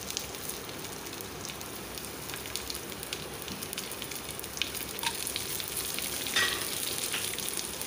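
A tempering of urad dal, chana dal, mustard seeds, cumin and garlic frying in hot oil, giving a continuous close sizzle and crackle with occasional small pops.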